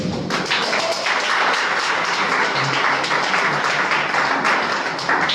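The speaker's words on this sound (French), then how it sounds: "Acclamons fortement notre Dieu" A church congregation applauding their God during a French-language sermon, loud dense clapping with some cheering that fills the space steadily throughout.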